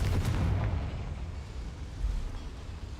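A Confringo fire spell explosion in Hogwarts Legacy, a loud deep boom that rumbles on steadily for about three seconds with a broad roaring tail.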